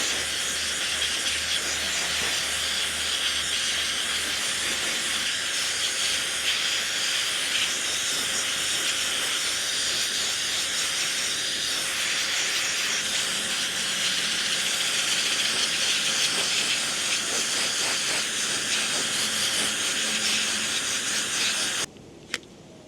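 Steady, loud hiss of an air blower drying two soaked camera lenses, running unbroken for about twenty seconds before cutting off abruptly near the end, with no talking.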